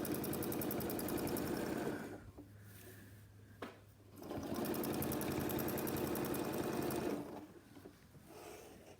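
A sewing machine running a straight stitch for ruler work on a table mat, two bursts of fast, even mechanical whirring each a few seconds long, separated by a quiet pause with a brief click, heard close up.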